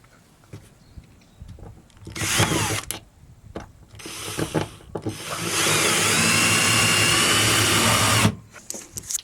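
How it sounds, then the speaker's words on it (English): A power drill drives a screw into wooden van flooring during a Ford Transit camper build, giving several short bursts followed by one long, loud, steady whir that stops abruptly, with tool clatter between. "Get a drill. Get the screw, put it in."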